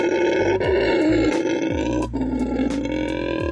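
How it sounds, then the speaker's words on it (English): A howler monkey roars from the Tayrona jungle in Colombia, a loud, continuous rough guttural howl with deep pulsing grunts swelling and dipping, close and dominant. "the sound we heard was actually a howler monkey"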